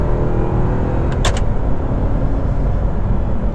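A 2009 Audi R8 with the 4.2 V8 and six-speed gated manual accelerates, its engine a loud, steady drone with a brief sharper burst midway; no talking.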